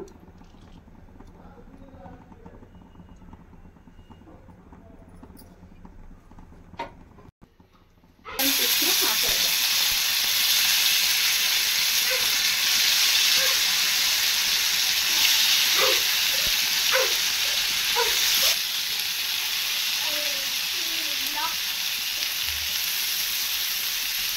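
Chicken sizzling in hot oil on a tawa for a home-style tandoori dish, a loud steady frying hiss that starts abruptly after a quieter opening with faint kitchen sounds and a voice.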